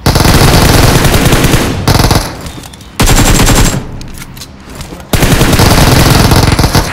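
Loud, sustained bursts of rapid machine-gun fire, probably from a shooting game, come in three long bursts separated by brief quieter gaps.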